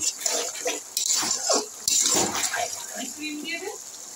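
Water is poured into a cooking pan for boiling eggs in a garlic egg dish, splashing in several bursts of rushing flow, close and fairly loud, with a voice talking over it.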